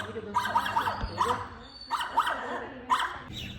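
A dog barks in short repeated bursts nearby, with people talking over and between the barks.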